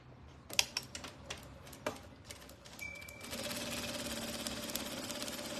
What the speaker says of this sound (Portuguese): vou fazer essa primeira costura